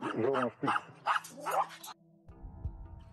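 Dogs fighting over food at an unsanitary breeding operation near Sofia, Bulgaria, bark and whimper in a short, close burst, with a voice talking just before.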